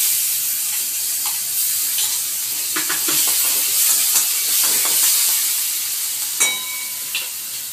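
Garlic paste hitting hot oil with bay leaf in a pan for a fish curry, a loud bright hiss and crackle with scattered spatter pops and light clinks, no talk.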